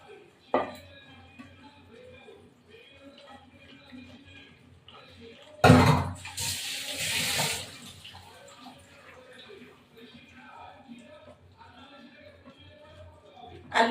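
Water pours into a pot of chicken and potato curry in a home kitchen, a short burst of splashing and gushing lasting about two seconds, close, set among quieter clinks and handling sounds.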